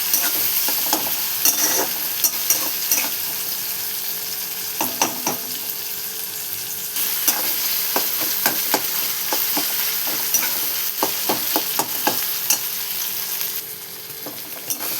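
Onion and tomato frying in a pan for a radish vegetable dish, with a continuous sizzle under many sharp spoon scrapes and clacks, irregular and close throughout.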